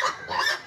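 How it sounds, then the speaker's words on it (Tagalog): A short, harsh squawk comes from free-range native chickens, close and fairly loud, lasting well under a second. "Mga alagang manok."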